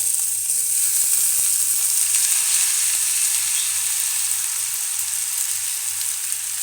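Washed rice tipped into a pot of well-browned onions frying in oil, giving a steady, close sizzle with faint scraping and stirring clicks throughout and no talk.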